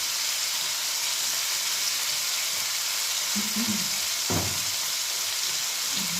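Chicken wings with vermicelli and rice fry in a pan. A steady, close hiss and sizzle runs throughout, broken by a brief utensil clatter near the end.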